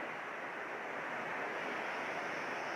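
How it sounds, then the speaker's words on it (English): A waterfall beside a river roars as a steady, unbroken wash of loud rushing water, with no voices over it. "Listening to the roar of the water."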